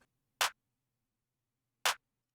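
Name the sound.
clap sample in a beat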